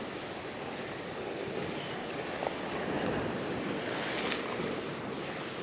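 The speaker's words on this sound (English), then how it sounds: "a little bit of wash from these couple of waves" Ocean waves wash against a rocky headland, a continuous broadband roar of surf swelling and receding, with wind buffeting the microphone and no talk.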